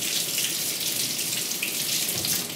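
Tap water runs steadily over lotus root being washed under the faucet, a close, continuous splashing hiss with no talking.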